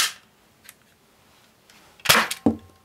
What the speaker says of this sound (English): Here's a little BoomCo pistol.